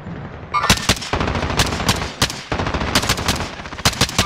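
Video game gunfire, loud and close, in dense rapid bursts like automatic weapons, with sharp single cracks between volleys and no talking.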